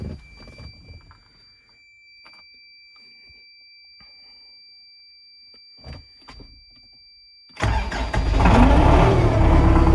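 Tractor engine cranks and fires into a loud, rough idle near the end, following a quiet stretch with a faint electronic beep tone and a few scattered clicks.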